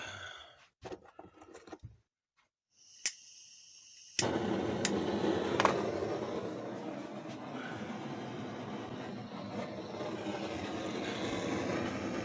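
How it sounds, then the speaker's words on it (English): A blowtorch roars to life after a few handling clicks and then burns steadily, heating a metal part for soldering while building a mini smoke machine for a 1/16 scale Tamiya tank. The flame is close and stays loud and constant. "So I need my blowtorch wherever I put it."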